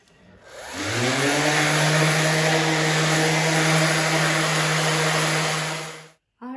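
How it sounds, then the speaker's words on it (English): An electric sander runs over wooden boards for a barn quilt sign, a loud, close, steady motor whine with broadband grinding that holds for about five seconds before cutting off. "So I've got all the boards sanded now"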